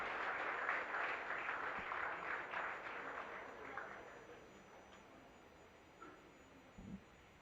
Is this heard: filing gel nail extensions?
no